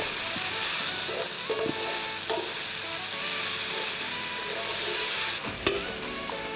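Bitter gourd and medium-ripe mango stir frying in a pan, a steady close sizzle with scraping stirs and a sharp utensil clatter near the end, no voices.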